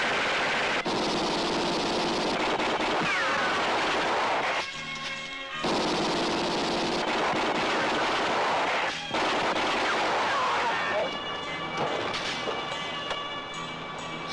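Loud, dense bursts of gunfire crackle continuously, broken by short pauses, harsh and close throughout.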